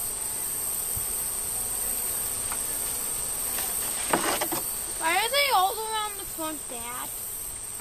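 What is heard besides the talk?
bees buzzing around old hive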